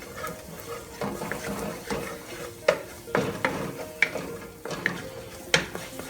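Flour cooking in a pot for chicken pot pie soup, with soft stirring scrapes and a low simmer, punctuated by several sharp clinks of a utensil against the pot, close by with no talking.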